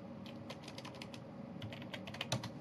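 Keys clatter in quick, uneven bursts as someone types on a computer keyboard while raising the resolution on an Oculus Go headset, soft and close with a light room hum and no voices.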